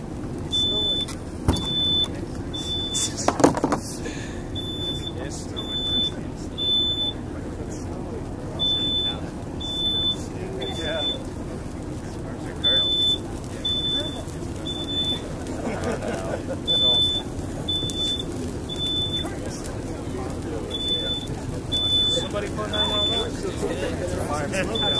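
A smoke detector beeps in a steady repeating pattern through a room where a Christmas tree is burning, its chirps sounding regularly over a low crackling roar and broadband noise for the whole stretch.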